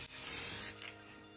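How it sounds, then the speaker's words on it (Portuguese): Copper spray paint hisses from an aerosol can onto backyard branches in one long, loud, steady burst that eases off near the end, with no talking. "estou passando uma camada de tinta spray cobre neles."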